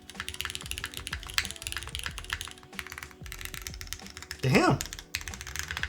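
Rapid, steady keystrokes from a Neo65 Core Plus gasket-mount mechanical keyboard clack up close throughout, with a person briefly speaking over the typing.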